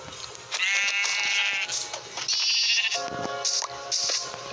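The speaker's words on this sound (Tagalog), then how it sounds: "Ayun, ayun, may tupa, tupa." Sheep bleat repeatedly in a blocky survival video game, several wavering calls overlapping one another over a steady bed of game sounds, with no talking.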